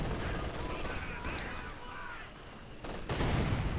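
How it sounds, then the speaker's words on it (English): A mortar barrage in the Company of Heroes 2 game rumbles and thuds amid dense battle noise, with heavier blasts bursting near the end. "And we'll be dropping a mortar barrage on these guys there."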